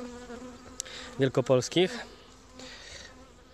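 Buckfast honey bees from a strong spring colony hum steadily at an opened hive, a low continuous drone under a brief spoken word.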